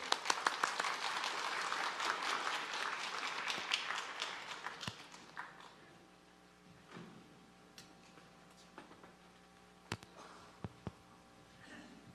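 Applause from a church congregation welcoming a performer rings out for about five seconds, then dies away to a hushed room with a few isolated claps and taps.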